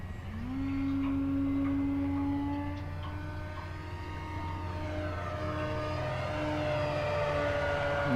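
An FMS de Havilland Beaver 2000mm V2 RC float plane flies past, its electric motor giving a steady, loud whine that rises in pitch and holds over a constant low hum, with no talking.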